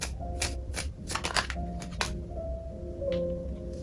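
Cards from a self-made true crime deck are shuffled and drawn, a series of crisp riffling flicks and slaps close by over a steady low room hum, with no speech.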